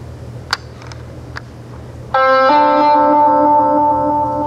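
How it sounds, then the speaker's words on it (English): A music recording heard through an echo delay effect: faint ticks over low hum, then a sustained chord-like tone swells in and holds, its repeats smearing into a dense ringing tail, loud and close. "bring the overall level of the delay, the echo delay, just down a touch"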